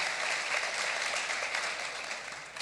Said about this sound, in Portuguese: Você pode aplaudir o Senhor, irmão?